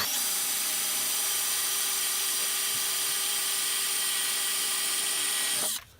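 A power drill whines steadily and loudly through a steel railroad spike for several seconds, then cuts off abruptly.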